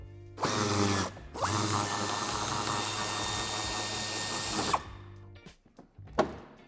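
A power tool whirs steadily for about four seconds while backing a fastener out of the bumper of a BMW 3 Series E91 Touring, briefly stopping and restarting, then followed by faint clicks and handling noises close by.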